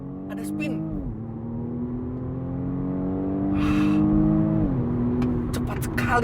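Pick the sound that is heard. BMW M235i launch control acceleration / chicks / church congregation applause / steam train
BMW M235i launch control acceleration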